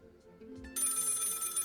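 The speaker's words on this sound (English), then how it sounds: "Phone is ringing." A telephone in the video game Lil Guardsman starts ringing, a bright sustained electronic bell tone kicking in abruptly after soft background music, loud and close.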